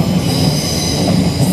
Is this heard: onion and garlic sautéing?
no